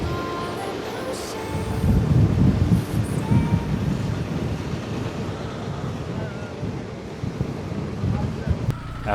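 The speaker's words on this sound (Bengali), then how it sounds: "প্রচন্ড বাতাস।" Strong gusts buffet the microphone on a motorbike trip through the Sundarbans, a loud rumbling roar that swells and eases over several seconds with faint voices in the background.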